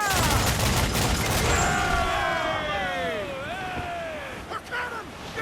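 Ship cannons firing in Assassin's Creed 4 Black Flag, a dense rolling barrage of booms early on under shouted crew voices, fading into lingering whistling tones and a few scattered later blasts.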